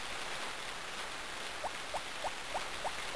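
Steady broadband hiss of rain falling in the farming game Harvest Moon: Friends of Mineral Town, constant and fairly loud, with a faint series of soft regular ticks partway through and no talking.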